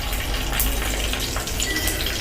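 Mustard seeds splutter in hot oil for a milagu kara kuzhambu (pepper curry), a dense, continuous crackling hiss heard close up with no talking.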